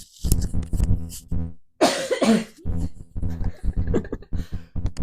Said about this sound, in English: Ooh, I have to cough.